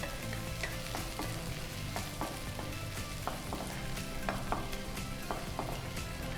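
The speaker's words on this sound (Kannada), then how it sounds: "ಈಗ ಆನಿಯನ್ಸ್ ಫ್ರೈ ಆಯಿತು" Onions frying in a pan for pumpkin soup, a constant hissing sizzle with light scraping taps of stirring scattered throughout, close and steady.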